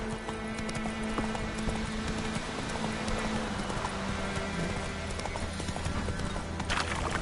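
Horse hooves gallop in The Witcher 3, a fast continuous clip-clop rhythm over game ambience, with no talking.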